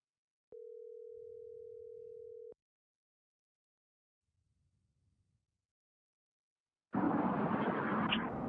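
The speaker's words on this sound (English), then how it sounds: "Surprised how Zoom does not want me to hear that ringing." A telephone ring tone sounds on a Zoom call as a single steady, even tone lasting about two seconds. Near silence follows, then a sudden burst of loud broadband noise.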